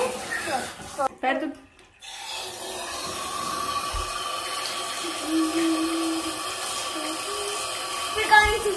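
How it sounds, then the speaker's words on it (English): Cold water runs from a bathtub tap in a steady, close splashing stream, briefly cut off early on and then flowing continuously, with a voice speaking over it. "Let's go in the tub and wash our feet with cold water."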